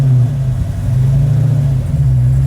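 A 1970 Hemi Dodge Charger with a dual-disc clutch runs at a steady, loud, low engine rumble, held close and continuous through a gear shift with no talking.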